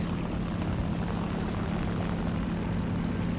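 A WWII-era aircraft engine in a flight video game drones steadily throughout, a continuous low-pitched propeller roar with a constant tone and no talking.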